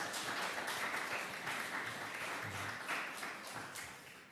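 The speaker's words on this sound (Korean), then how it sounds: "우리 옆에 있는 분들 박수로 환영했으면 좋겠습니다" Church congregation at a Sunday service applauding to welcome one another, a full, even round of clapping at a fairly low level that fades slightly at the end.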